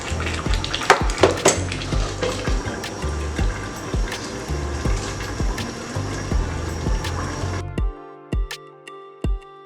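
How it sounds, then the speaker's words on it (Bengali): Beef and pumpkin curry is stirred and sautéed in a pot, with a metal spoon repeatedly scraping and clanking against the pot over a sizzling bed, ending in a few sparse taps before quiet. "মিষ্টি কুমড়া আর একটু কষাতে হবে"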